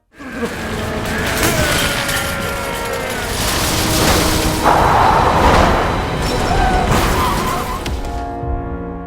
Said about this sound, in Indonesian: Ledakan Gunung Baekdu kembali terjadi. Jembatan yang mereka lewati pun mulai rubuh.